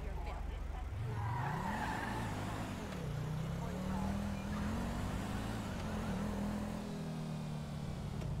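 Car engines revving and shifting in a street race in the video game GTA V, a steady rising and falling engine drone with faint tire noise throughout.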